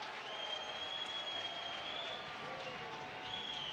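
Tennis crowd at the Delray Beach Open applauding Del Potro's break of serve, a sustained wash of clapping heard at moderate distance with a steady tone running through it.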